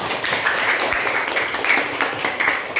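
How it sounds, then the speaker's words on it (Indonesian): Applause from students in a school classroom, a dense, steady burst of many hands clapping together at close range throughout, with no talk over it. "mari kita berikan aplaus untuk kita semuanya"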